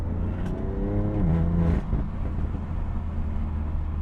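BMW M4 engine revs up with a rising howl, then drops off, followed by a few crackling exhaust pops and a lower rumble as it settles, close and fairly loud, with no talking.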